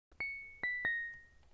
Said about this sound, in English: Just a little plucky piano.